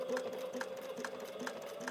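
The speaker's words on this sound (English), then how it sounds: "sewing the gusset is always the most nerve-wracking part" A sewing machine stitches a leather tote bag gusset, its needle thumping in a quick, even rhythm of about two strokes a second over a steady motor whine, close and moderately loud.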